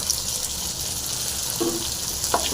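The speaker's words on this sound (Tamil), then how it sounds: "இது சாம்பார் எண்ணெய் போட்டுடலாம் இது நல்லா ஃப்ரை ஆகட்டும்" Ingredients frying in oil for a herbal mudakathan dosa, a steady close hiss of sizzling with faint clinks and a brief stir toward the end.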